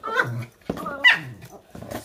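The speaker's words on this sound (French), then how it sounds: "Stop, les chiens, stop." Dogs indoors give several short yelping barks and whines in quick succession, close and fairly loud.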